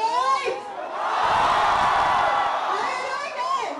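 A large college crowd at a media festival at Mithibai College cheers and whoops loudly, a sustained roar swelling in the middle with shrill voices rising at the start and end.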